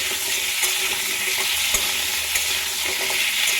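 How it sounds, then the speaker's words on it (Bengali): Small halved potatoes frying in oil produce a loud, even hiss of sizzling with faint spatters and one soft knock midway, heard up close and without any talk. "আলুটাও ভেজে নেব।"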